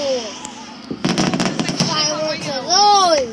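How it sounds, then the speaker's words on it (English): Independence Day fireworks burst in a rapid crackling cluster, with excited voices shouting and exclaiming over the blasts. "Fireworks are those!"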